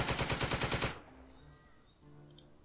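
Machine gun fire in the Second Front war game during a Panzer Division river crossing: a loud, rapid burst of evenly spaced shots lasting about a second, then quieter game ambience with a faint tone near the end.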